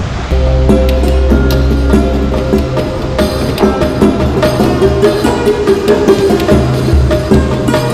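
Water falls steadily from a mountain channel at the Bibi Ka Maqbara tomb, a loud continuous rushing and splashing that holds throughout.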